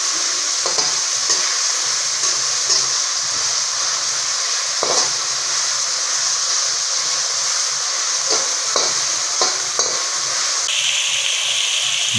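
Seafood rice with fish, squid and prawns being stirred and turned in a hot pan, a loud continuous sizzle and hiss with repeated scraping strokes of the utensil, close and alone.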